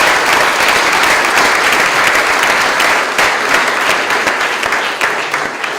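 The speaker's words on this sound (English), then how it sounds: "let's begin by giving Harris and the Naz Legacy Foundation a massive round of applause" Loud, sustained applause from a large audience at an interfaith iftar gathering in London, dense overlapping claps continuing without a break and tapering slightly toward the end.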